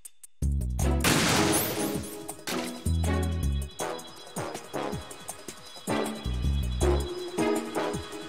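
Heavy gunshots in the Metal Gear Solid 2 Plant chapter with Raiden sniping through a PSG-1 scope: a handful of loud, booming reports spaced a second or two apart, each trailing off with a ringing echo and debris-like clatter.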